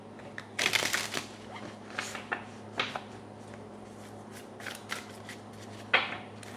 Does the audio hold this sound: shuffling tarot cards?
yes